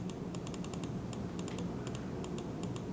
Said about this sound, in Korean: 클릭하는 것도 괜찮고 휠을 돌리는 것도 괜찮은데 휠을 클릭하는 소리